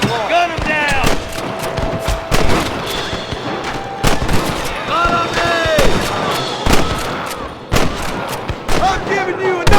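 A chaotic shootout in Red Dead Redemption against rustlers at Pike's Basin: loud, close gunshots crack repeatedly at irregular intervals, overlapping into volleys, with shouted voices mixed in.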